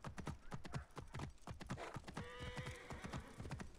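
Rapid, rhythmic hoofbeats clatter steadily from a galloping horse in Assassin's Creed Origins, with a brief whinny partway through, all fairly close and without talk.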